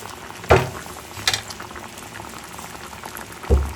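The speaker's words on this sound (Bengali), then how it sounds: "মোরব্বাগুলোকে কিন্তু এরকম ধিমি আঁচেই ফুটিয়ে নিতে হবে চিনির রসের সঙ্গে" Ash gourd morabba simmers in sugar syrup over a low flame, a soft continuous bubbling close by, with a few louder pops or stirring knocks at irregular moments and no talk.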